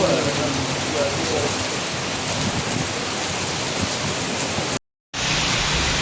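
Heavy rain falls under a dark sky in a steady, dense hiss that fills the whole span, broken only by a brief silent gap near the end.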